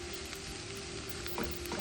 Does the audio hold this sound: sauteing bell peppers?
yes